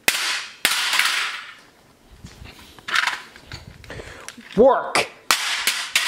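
A Mickey Mouse toy keyboard being smashed apart: loud, sharp cracking impacts in irregular bursts, close up, with plastic crunching and rattling between hits and a brief shouted word.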